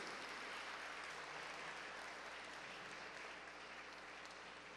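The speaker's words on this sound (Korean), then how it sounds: "김상근 목사님께 다시 한번 큰 박수 부탁드리겠습니다" A large crowd at a memorial ceremony for the fourth anniversary of the October 4 inter-Korean summit declaration applauds Pastor Kim Sang-geun, a thick, sustained roar of clapping that holds steady for nearly five seconds, distant and fairly quiet in level.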